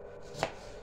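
A single quiet knife chop through vegetables for a salad, landing on a board in the middle of a short, otherwise hushed moment.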